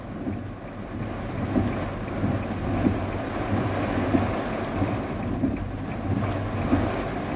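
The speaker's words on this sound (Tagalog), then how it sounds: "Lakas ng ulan. Lalaki ng patak eh." Heavy rain with large drops pours steadily on the coastal road at Al Khor, Qatar, with gusts of wind buffeting the microphone in a dense, continuous rush; no one speaks.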